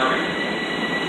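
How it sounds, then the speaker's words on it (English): A Long Island Rail Road Ronkonkoma train pulls into a station, close and loud, with a steady rushing rumble and high wheel squeal over the whole short stretch. "this is the Ronkonkoma train coming in right now"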